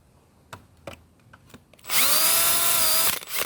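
A power drill drives a screw into a fence while mounting a tomato trellis: a few faint taps, then one loud, close, steady whirring burst lasting just over a second before it stops.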